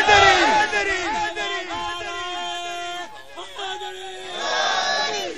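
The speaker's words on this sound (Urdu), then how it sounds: "نعرے دی آواز جاوے کے غلام بیٹھے نعرہ حیدری حیدری" A large crowd at a religious gathering chants the slogan Nara-e-Haidari, rising and falling shouted calls in repeated bursts, loud and close, with crowd murmur between the chants.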